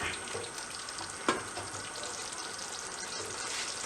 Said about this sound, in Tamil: அடுப்பை குறைச்சிட்டு பிரட்டி எடுப்போம்.